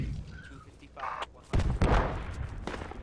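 Mortar rounds fired in the Project Reality military game, heavy booming thumps with the loudest burst near the middle, surrounded by radio-style squad chatter.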